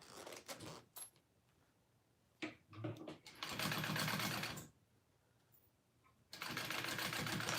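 A sewing machine stitches a zipper pocket piece onto a handmade wallet, running in two sustained bursts after some quieter handling clicks and taps, fairly close and free of talk.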